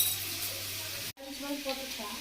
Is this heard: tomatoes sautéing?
yes